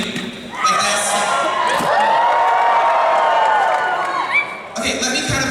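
A crowd at the Megaplex 2023 dance competition screams and cheers, a loud, sustained roar with shrill voices rising above it for about four seconds before dropping away.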